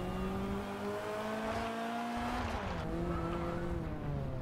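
A 2016 Mazda MX-5 engine drones and shifts pitch in the racing game Forza Horizon 2, tires faintly squealing, the steady motor tone dipping and rising again as gears change.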